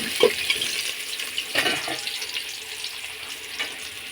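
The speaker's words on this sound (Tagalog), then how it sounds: "Igigisa natin siya sa kunting bagoong" Onions sauté in a pan with a little shrimp paste for mung bean stew, a bright continuous sizzle with a few soft stirring knocks, close by and without speech.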